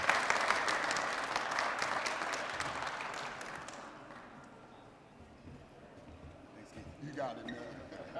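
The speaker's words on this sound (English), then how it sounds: "Give Kareem a round of applause" An audience applauds at a USPS stamp dedication ceremony, dense clapping loud at first and fading over several seconds, with a few louder claps near the end.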